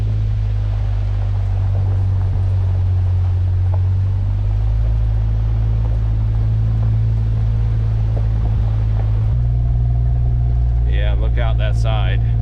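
A Jeep driving along Duncan Ridge Road, a mountain trail in Georgia, heard as a loud, constant engine rumble and drone from inside the vehicle, with a brief higher whine near the end.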